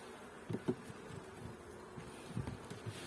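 Low, steady insect hum of honey bees around a hive during a spring inspection, fairly quiet, with a few soft knocks and bumps near the start and end.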